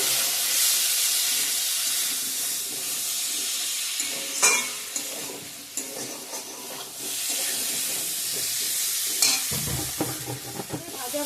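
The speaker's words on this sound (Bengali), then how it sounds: "সব মশলা কষিয়ে নেব ভালো করে" Oil sizzles steadily in a pan as cumin and coriander powder fry for a rohu fish curry with potato and pointed gourd, broken by occasional scraping stirs and clinks of a spoon, close and continuous.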